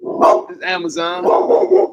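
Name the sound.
American bully dog barking at the gate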